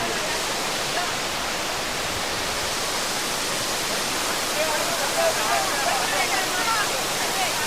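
A waterfall pouring from a great height, a loud unbroken roar of falling water that fills the whole scene at a steady level.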